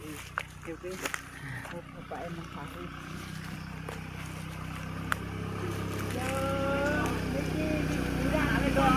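A motorcycle drives past on a road lined with oil palm plantations, its engine drone rising gradually from a distance as it comes nearer, while people talk over it.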